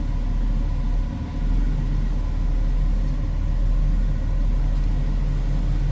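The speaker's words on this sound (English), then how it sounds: "Nice sounding car, 327, small block Chev." A 1967 Chevrolet Camaro convertible with a 327 small-block Chevy V8 idles with a deep, steady, throbbing rumble, close and loud, holding an even rhythm throughout with only a slight dip early on.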